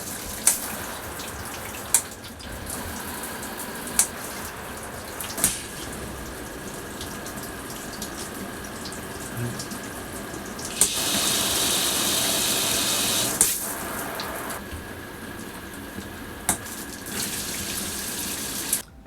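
Water runs steadily from an RV faucet, a continuous hiss with a louder gush partway through and a few sharp clicks and knocks over the flow, with no voices.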